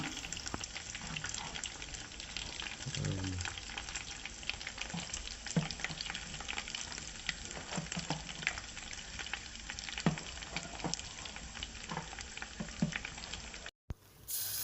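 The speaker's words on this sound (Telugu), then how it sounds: "ఇప్పుడు ఎండుమిర్చి అన్నీ బాగా వేగిపోయాయి" Dry red chillies, curry leaves and fenugreek seeds fry in hot oil as a tempering for peanut chutney, a steady close crackling sizzle with faint stirring clicks that runs throughout and cuts out briefly near the end.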